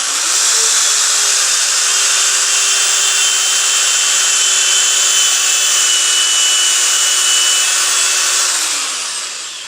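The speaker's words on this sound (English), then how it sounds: "So we're gonna make our first drill hole right here." A power drill whines steadily at a constant pitch while boring into wood, running continuously for several seconds before spinning down.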